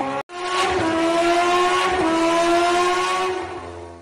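A cartoon motorbike engine runs at a steady, loud drone with a strong even pitch, starting abruptly after a brief gap and holding for several seconds before easing slightly at the end.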